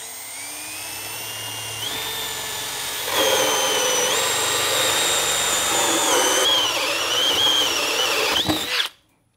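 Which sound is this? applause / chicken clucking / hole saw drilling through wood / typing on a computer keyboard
hole saw drilling through wood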